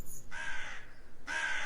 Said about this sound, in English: Damn thing looks like a crow.